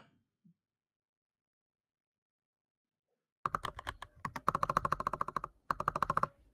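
A computer keyboard is typed on after a few seconds of silence, with rapid, clicky keystrokes in dense bursts and brief pauses between them, close and clear.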